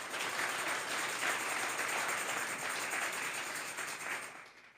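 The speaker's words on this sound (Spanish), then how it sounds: "Denle un fuerte aplauso pues al Señor." A church congregation claps in a steady, moderately distant wash of applause that fills the whole stretch and fades slightly at the close.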